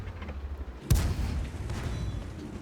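Tank cannon fire in the armoured combat game Excelsior: a single heavy boom near the one-second mark, with a rumbling tail that fades into steady low battlefield noise.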